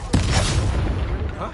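A spell-casting effect from the Hogwarts Legacy video game, the disarming charm, lands as a sudden broad magical blast that rumbles on for about a second and a half.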